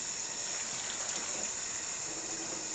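Water running steadily from a tap over cooked, fork-tender beetroots to soak and cool them, a continuous close hissing gush with no pauses and no talking.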